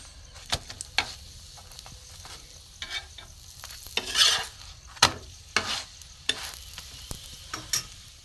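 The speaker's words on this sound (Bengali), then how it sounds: "এপিট ওপিট করে হালকা তেলে ভেজে নিতে হবে।" Paratha flatbread fries in light oil in a pan, giving a soft, steady sizzle broken by sharp clicks and scrapes of a utensil flipping and stirring, quiet and close, with no talk.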